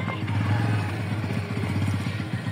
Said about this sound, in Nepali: बाइक ल्याउँदै हुनुहुन्छ डाँडामा राख्न।